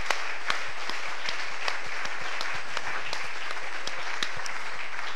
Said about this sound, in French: Donnons un applaudissement à Jésus-Christ.